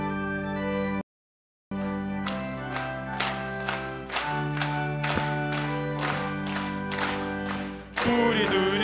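A church congregation claps steadily along to a hymn while organ and sung melody carry on, the sharp claps keeping an even rhythm throughout, with a brief dropout near the start.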